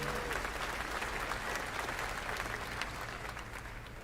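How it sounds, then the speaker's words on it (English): Light, steady applause from an audience, a soft patter of clapping that holds evenly for a few seconds and fades slightly at the end. "It's like mild applause."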